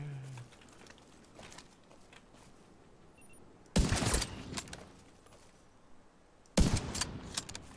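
Two loud bursts of automatic gunfire in the shooter game The Division 2 break through a quiet stretch with faint scattered sounds between them, each burst lasting under a second.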